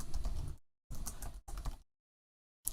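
Bursts of rapid typing on a computer keyboard while writing Python script code, three short clusters of soft key clatter separated by silent pauses, close and fairly quiet.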